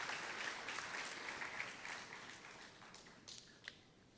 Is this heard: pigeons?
no